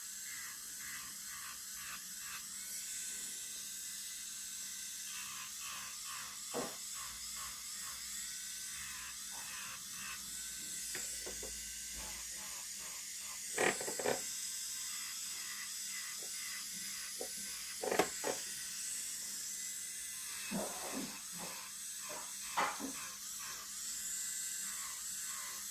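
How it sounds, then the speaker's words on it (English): An electric nail file turning at a low 3000 RPM while it files near the skin, with a steady faint whirring hum and brief sharper grinding bursts as the bit touches the nail. "I've literally got my e-file on 3000 RPM"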